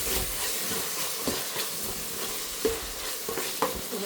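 Tomatoes sprinkled with a little salt fry and sizzle in a pan for avalakki upittu, a steady close hiss broken by several scraping stirs of a spatula against the metal.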